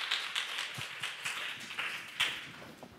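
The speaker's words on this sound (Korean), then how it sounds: "여러분 박수로 맞아주시기 바랍니다" Sparse, separate claps from a small audience welcoming a student team presenting on crossover gugak, irregular and fairly quiet with gaps between hits.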